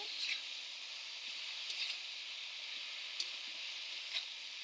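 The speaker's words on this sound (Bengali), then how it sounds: "পালং শাকগুলো দিয়ে একটু নেড়ে নিচ্ছি" Spinach stir-frying in a pan for a Bengali palong shaker ghonto, a soft steady sizzle with a few faint scrapes of stirring, quiet and even throughout.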